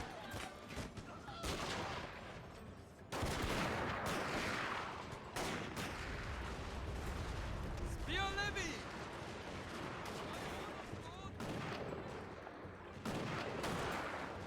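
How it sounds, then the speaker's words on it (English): Musket volleys crack in the video game Shogun 2: Fall of the Samurai, with repeated dense bursts of massed gunfire rolling in waves amid battle noise, while someone talks over the shots. "the defenders are bravely wielding their muskets against all odds. Getting a volley off as enemy muskets fire at them"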